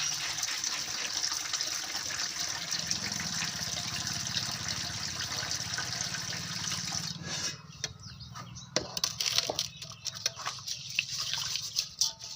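Rice being washed for dal-bhat under a running tap, a steady gushing stream of water splashing for most of the stretch, then cutting off into scattered drips and small splashes near the end, close and alone with no talk.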